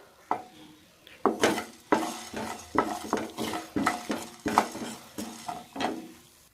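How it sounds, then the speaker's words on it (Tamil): Dried red chillies, coriander seeds, pepper, cumin, fennel, poppy seeds, cinnamon, cloves and cardamom dry roasting in a kadai with half a spoon of oil, with a series of sharp clanking stirs of a ladle against the metal pan over a faint sizzle. "ஒரு கடாயில் சும்மா ஒரு அரை ஸ்பூன் எண்ணெய் விட்டுக்குங்க விட்டுட்டு காஞ்ச மிளகா தனியா மிளகு சீரகம் சோம்பு கசகசா ஒரு பட்டை லவங்கம் ஏலக்காய் அப்படியே வறுத்து எடுத்துக்கலாம்"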